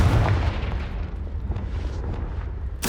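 A Confringo blasting spell in Hogwarts Legacy goes off as a loud, rumbling explosion that rolls and decays over a few seconds. A sharp burst arrives at the very end, and no voices are heard.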